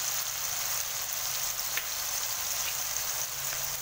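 Vegetables sizzle and fry steadily in a pan for a Western-style veggie stir fry, a continuous hissing crackle at close range with no talking.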